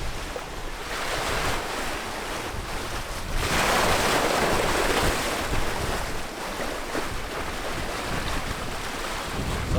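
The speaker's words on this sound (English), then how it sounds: "Here comes the gust. Can you see it? Here it comes." Strong wind gust and rushing waves around a classic sailing catamaran in heavy weather on a broad reach, a steady roar of wind noise and surf that swells louder midway and stays intense, with no talking.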